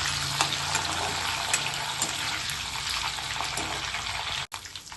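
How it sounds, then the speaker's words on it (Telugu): Dried red chillies and fresh garlic frying in oil for a mango pickle tempering: a steady, close, dense sizzle with faint stirring, briefly cutting out near the end, with no voices. "అలాగే ఎండుమిర్చి, ఫ్రెష్ చేసిన వెల్లుల్లి వేసుకున్నాను. ఇది కొంచెం ఫ్రై చేసుకుందాం."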